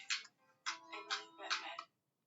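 A mobile phone rings during a lecture in a quiet room, giving a clear electronic ringtone in four short bursts that then cuts off abruptly.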